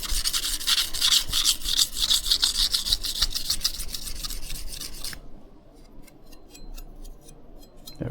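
A blade rubbed back and forth across a whetstone, steady rasping strokes close by for about five seconds, then lighter, quieter, more widely spaced scrapes as a finishing pass on each side.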